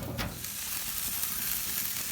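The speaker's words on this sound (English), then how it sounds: "I'm hearing a lot of popping and sizzling" Smoked hot wings sizzle steadily on a grill, a close, dense hiss with small pops scattered through it.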